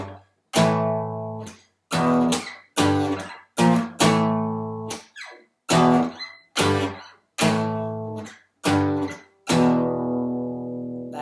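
Electric guitar playing a riff very slowly, distinct chord stabs separated by short silences, close and clear with no talking.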